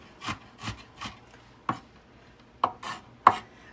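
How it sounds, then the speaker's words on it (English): A knife chops through an onion on a cutting board in a series of about eight close, distinct strokes, irregular in rhythm with short pauses between groups; no talking. "So I'm going to continue chopping this onion up"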